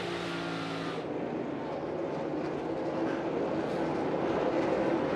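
NASCAR Cup stock car engine roaring under throttle on the Bristol dirt track, a loud, sustained, broadband race-engine drone that shifts slightly in tone after the first second and holds steady without a break.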